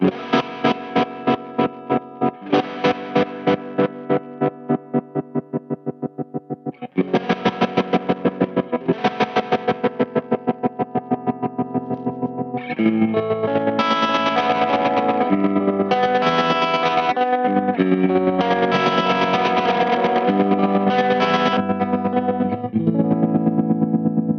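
An electric guitar plays repeated chords through a Valco Five-O pedal with overdrive, tremolo and reverb, the tremolo chopping each sustained chord into a fast regular pulse, growing denser and louder in the later passages.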